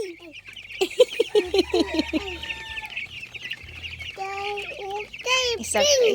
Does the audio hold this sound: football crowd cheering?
no